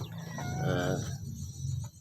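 Backyard chickens fed on table scraps such as rice and vegetable leftovers, heard as a rooster-like crowing call and soft clucks close by, with steady low farmyard rumble underneath.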